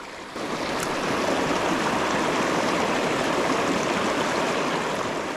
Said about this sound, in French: on va remonter ce petit ruisseau du Béarn